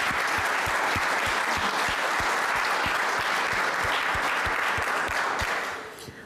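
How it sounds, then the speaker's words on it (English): Steady, dense applause from an audience at a community meeting honoring humane society volunteers and staff, loud and continuous with rhythmic claps before tapering off at the end. "okay, we like this applause"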